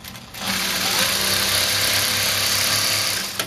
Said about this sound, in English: you can sew very fast if you want. I'll sew all the way to the end here